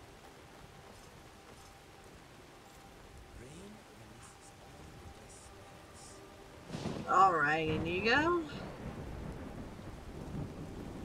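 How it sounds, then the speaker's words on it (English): Rain patters and thunder rumbles in Skyrim, a soft steady shower with one louder rolling thunder burst midway, while a person speaks over it. "Hallelujah, it's raining, man."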